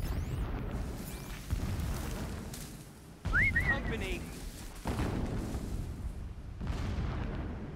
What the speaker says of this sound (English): Jeez, lots of explosions.